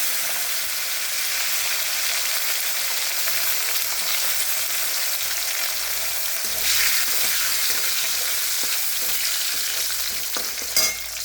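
Raisins and cashews fry in hot tempering oil, giving a loud, continuous close sizzle with light stirring scrapes and a few sharper pops toward the end.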